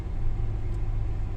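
A car rolls slowly along a harbour-side road in Paphos, Cyprus, looking for a place to park; a steady low engine rumble and road noise hold throughout, close and even, with no voices.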